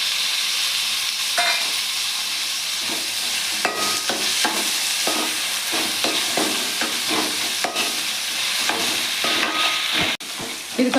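Chopped tomatoes fry in a pan for fish curry, a loud, continuous close sizzle broken by repeated scraping and stirring strokes of a spoon.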